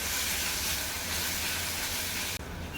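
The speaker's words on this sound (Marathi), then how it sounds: "तुपात घालून घेतलेले चिकूचे तुकडे आपल्याला थोडा वेळ फ्राय करून घ्यायचे आहेत." Chikoo pieces frying in ghee, a dense, steady hiss that stays loud and even from start to finish and cuts off abruptly just before the end.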